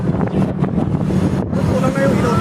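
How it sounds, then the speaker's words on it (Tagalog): Strong wind on Binondo Bridge buffets the microphone in a constant rumbling roar, with muffled voices partly buried beneath the gusts. "Lakas ng hangin dito."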